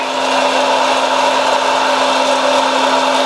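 A steady, loud whirring of a Dash hot air popcorn popper, with a constant hum running throughout, unchanging from start to finish.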